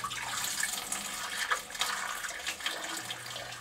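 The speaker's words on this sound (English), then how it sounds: "I'm going to start here by filling the two outboard chambers first, the return chamber and the skimmer chamber" Water pouring into the glass sump chambers of a nano reef aquarium, a steady, faint splashing trickle with small gurgles, heard alone with no talk.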